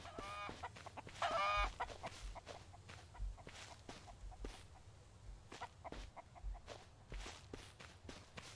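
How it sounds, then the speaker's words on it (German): A chicken in the survival game Mist Survival clucks briefly in a short, sharp burst, accompanied by steady footsteps and scattered thuds over a quiet background. "Ein Huhn."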